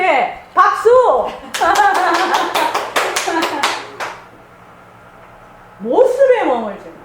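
At a Buddhist dharma talk, a short burst of quick hand claps follows a voice. The claps are close and fairly loud, and speech is heard before and after them.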